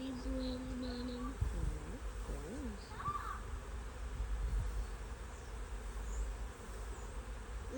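A swarm of honey bees being retrieved in Alaska makes a low, continuous buzzing hum beneath a few short, brief voices nearby.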